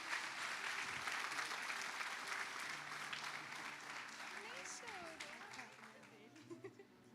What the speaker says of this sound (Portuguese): Você pode dar um aplauso bem forte?